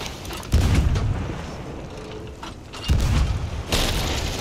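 Heavy ship cannons boom during a multi-ship pirate naval battle in Sea of Thieves, with two or three deep, loud blasts spaced a couple of seconds apart over a low rumbling background.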